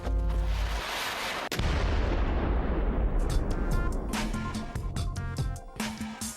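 A cannon fires with a heavy boom that rolls out into a long, rumbling decay, followed by a second sharp report and lingering echoes.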